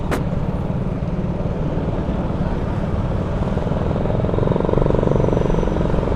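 A big bike motorcycle rolls along a road in post-New Year traffic in Kapasigan, its engine roar a constant heavy rumble that swells louder toward the end, with no voices over it.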